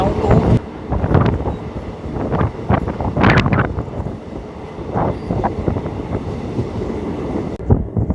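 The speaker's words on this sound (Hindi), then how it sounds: "हमारी ट्रेन अब पहुंच रही है रुड़की जंक्शन" A special train on the new Deoband–Roorkee line pulls into Roorkee Junction with a steady rumble of rolling wagons, heavily buffeted by wind noise on the microphone throughout.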